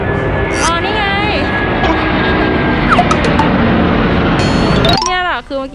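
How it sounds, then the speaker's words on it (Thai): A low airplane roars past over a café area in Chiang Mai, a loud continuous engine rumble filling the whole stretch, with birds chirping and faint voices around it. "เมื่อกี้ตามที่เห็นว่าเครื่องบินมันผ่านไป"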